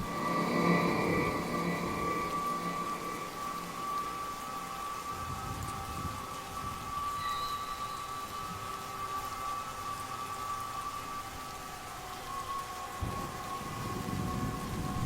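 Continuous rain patters in a dense, even wash, heard from inside a funeral pavilion, with a faint steady hum and occasional low rumbles; no one speaks.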